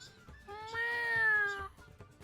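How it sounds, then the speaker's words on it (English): A tabletop game sound effect of cats meowing: one long, drawn-out, rising-then-falling meow, clear and prominent over faint background murmur, with no spoken words. "Have you summoned cats?"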